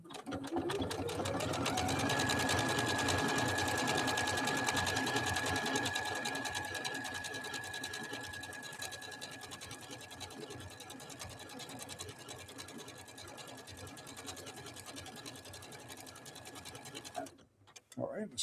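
A Janome Skyline S5 sewing machine stitches a decorative pattern. Its motor hum is steady and close, with a rapid needle rhythm for about seventeen seconds before it stops.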